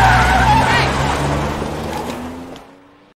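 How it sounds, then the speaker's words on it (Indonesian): A car speeds off on the road toward a town, its engine roaring loud and close before fading away into silence near the end. "Rose justru malah tancap gas melanjutkan perjalanan menuju kota tersebut."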